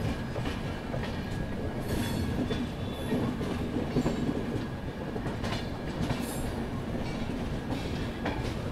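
Rayalaseema Express rolling along after leaving Tirupati, heard from inside a coach as a steady loud rumble with rhythmic wheel clatter and faint squeals throughout.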